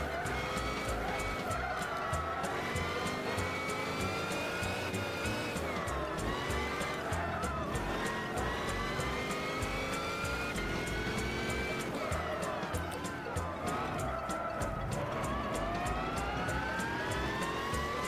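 A race car lapping in the video game Gran Turismo 6 sounds as a steady, loud engine drone whose pitch rises and falls through gear shifts and corners, continuous for the whole stretch with no talk.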